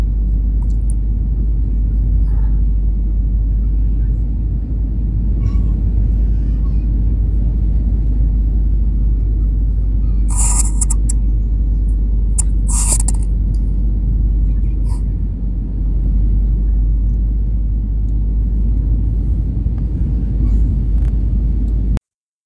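Steady, loud low rumble of a passenger airplane taking off, heard from inside the cabin, with a few brief hissing bursts over the continuous engine and airframe drone.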